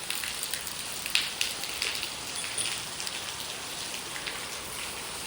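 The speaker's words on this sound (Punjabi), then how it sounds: "ਅੱਜ ਦੇਖੋ ਮੀਂਹ ਕਿੱਦਾਂ ਪੈਣ ਦਿਆ" Heavy rain pours down on a dairy farm in a steady, dense hiss, with scattered sharper drops pattering on a surface close by.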